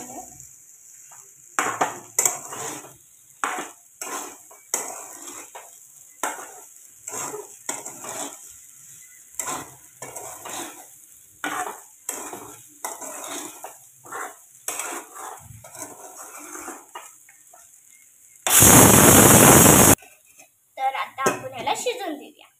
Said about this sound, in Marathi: आता हलवून घेतो